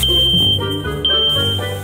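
A household smoke detector sounds a loud, piercing, continuous high alarm tone, close and steady for the whole stretch with slight wavering and no voices over it.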